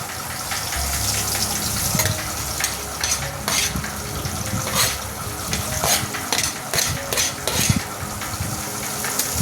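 Chopped onions hit a hot pan and fry with a loud, continuous sizzle, broken by scraping and clinking from stirring with a utensil in a steady, uneven rhythm.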